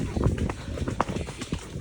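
Horse hooves cantering on a hack out, a loose run of soft thudding beats heard amid swishing tails and outdoor noise, with a voice talking over the top.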